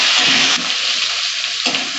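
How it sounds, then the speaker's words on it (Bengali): Potatoes and beans stir-fry in hot oil with a loud, dense, close hiss that dips briefly midway as they are stirred, then surges back, with no voices. "একটু হালকা নেড়ে নেবো বিনসগুলো দিয়ে।"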